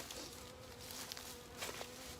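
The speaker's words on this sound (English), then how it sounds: "So the bees have been swirling around for a little while" Honey bees swarming and swirling around an open hive box during a swarm capture, a steady soft buzzing hum with faint scattered wingbeats close by, no talking.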